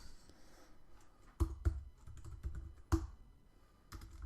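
Keys clatter on a computer keyboard while code is typed into a food journal app with geolocation and maps, with irregular clicks and a few louder key strikes, close and clear and no talking.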